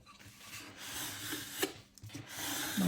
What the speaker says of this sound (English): Tim Holtz scraper here and help the glue spread out a little bit